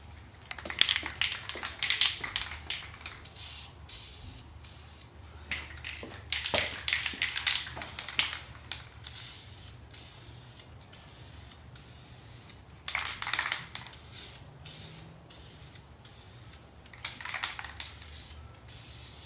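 Spray paint hissing from an aerosol can onto a Depo Racing charge pipe for a Subaru WRX, long bursts repeated with pauses between, close and fairly loud, with some light clicks and handling noises.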